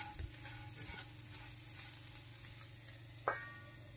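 Green chillies cook under a lid in a pan, giving a faint, steady low sizzle with a soft knock near the start and a brief metallic clink toward the end.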